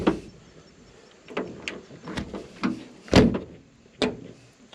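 Door of an old Jeep opened and shut several times, each a sharp clunk or slam with a brief rattle, close by and spaced out over a few seconds with quiet gaps between.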